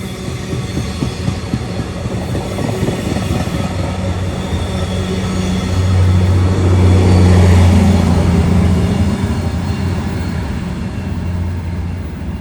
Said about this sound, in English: Off into the night goes this MARC train on its destination to Baltimore.